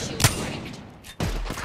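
Gunfire from the Apex Legends video game comes as two short, loud bursts about a second apart, each sharp attack trailing into a brief rumbling tail.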